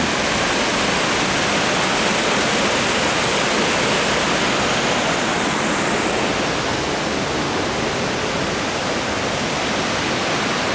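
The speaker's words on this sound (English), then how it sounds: "And there's where the water flows down the creek" Crystal Falls in Kinsmen Park, Sault Ste. Marie, pours into Crystal Creek with a loud, unbroken roar of rushing water heard up close from a viewing platform, steady throughout.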